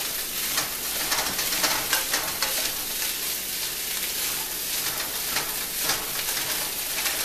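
Fried rice with frozen peas stirred in a frying pan gives a steady, close sizzle with scraping and clinking of the utensil against the pan throughout, and no talk.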